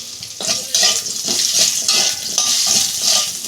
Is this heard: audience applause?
no